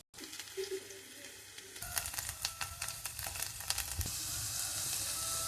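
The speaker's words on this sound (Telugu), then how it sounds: "దొండకాయలు బాగా వేగాయి కదా" Ivy gourd masala with peanuts and ginger-onion-garlic paste frying in a pan, a steady close sizzle with scattered crackles and pops that grows denser and louder partway through.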